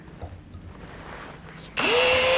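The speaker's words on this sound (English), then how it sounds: "I'm gonna drill" A power drill spins up abruptly and runs at steady high speed, loud and close, after a few seconds of quiet background noise, while drilling into a Lynx GLS 3500.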